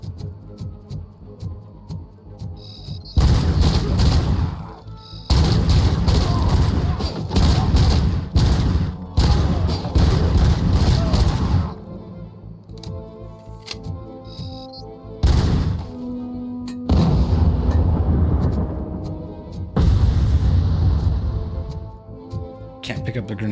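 Heavy ordnance and gunfire in the RoboCop: Rogue City game, with repeated loud bursts of booming fire and explosions separated by brief lulls, and someone talking between the blasts.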